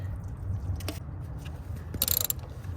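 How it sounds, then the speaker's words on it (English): A ratchet works a 10 mm bolt loose on a Jeep Grand Cherokee during a coolant crossover replacement, giving a couple of short, close clicking bursts over a low rumbling background. "I'm gonna remove the other bolt, which is a 10, right here at the bottom."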